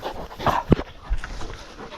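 A working dog, out with a ferreting party, pants and gives short whimpers close by, in quick uneven breaths with a sharp whine in the middle.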